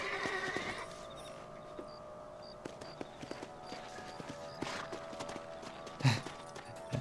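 Horse hooves clip-clopping in the video game Red Dead Redemption, a soft steady trot of evenly spaced clops beneath faint ambient game sound, with a louder thud near the end.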